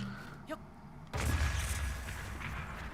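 In Zelda: Breath of the Wild, a bomb bursts against a tree with a sudden heavy boom that rumbles and decays over a couple of seconds, following a short beep and a quieter stretch.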